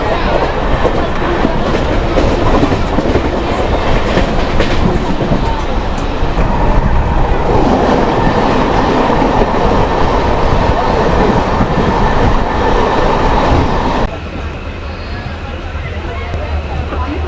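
Trivandrum to Trichy Intercity Express train running, a steady loud rumble of wheels and carriages with rhythmic clatter throughout, and the tone drops slightly near the end.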